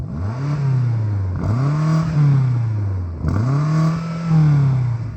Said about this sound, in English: Can you rev up the BMW,